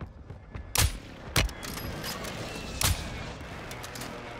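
Three sharp gunshots crack out at irregular intervals over a low, steady background hum, each shot loud and close, in a video game.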